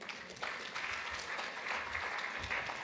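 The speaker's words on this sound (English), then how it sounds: "Let's give him another round of applause" A conference audience claps, a dense, even round of applause starting abruptly and holding steady at moderate loudness throughout.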